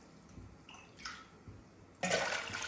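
Water pours into a pressure cooker on a lit stove, ready for boiling tapioca: a quiet, faint stretch, a few small clinks, then a sudden splashing gush of pouring near the end.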